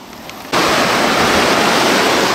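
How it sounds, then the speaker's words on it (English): Turbulent water pours down from the open centre of a dam in a loud, close, continuous roar that cuts in abruptly after a short quieter stretch and holds steady. "The center of the dam is open, and all of this turbulent water all the way down is here for you to have fun with."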